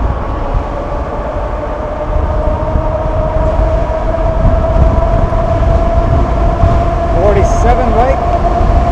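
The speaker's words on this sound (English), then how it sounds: "let's see what kind of top speed we're working with here on the Alpha bike" Magician Alpha 72V, 3000W electric bike in boost mode at full throttle near its 50 mph top speed, a steady motor whine and rushing wind noise holding constant throughout, with a brief faint chirp near the end.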